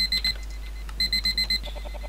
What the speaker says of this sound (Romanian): Am găsit timerul. De ce are și sonor?